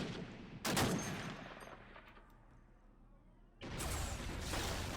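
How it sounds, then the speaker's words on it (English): Gunfire rattles through a Warhammer 40,000 video game battle: a short loud burst, then a lull, then a longer sustained volley of shots near the end. "We see some return fire."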